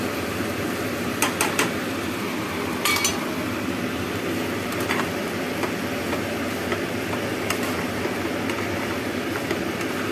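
Mung bean usal is stirred with salt in a pot, heard as scattered faint clinks and scrapes of a spoon against the metal over a low, steady background hum.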